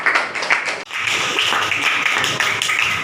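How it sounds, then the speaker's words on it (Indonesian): A classroom gives group one a short round of applause: dense clapping from several people that breaks off briefly, then resumes steadily and fairly loud for the rest. "berikan tepuk tangan kepada kelompok satu."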